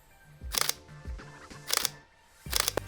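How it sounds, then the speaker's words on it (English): A Sony a7 IV mirrorless camera fires its mechanical shutter three times at a slow, uneven pace, each one a crisp close double click with faint mechanical whirs between. "I really like the sound of the mechanical shutter on the Sony a7 IV"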